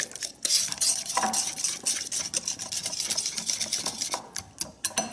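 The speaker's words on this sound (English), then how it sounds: "just take your whisk and mash it and whisk away" A whisk clatters rapidly against a bowl while mashing and beating a vegan mixture, a close, busy run of quick metallic scrapes and taps in an uneven rhythm with no talk over it.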